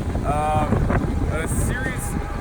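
Strong wind buffets the microphone with a constant low roar, while a voice speaks over the gusts.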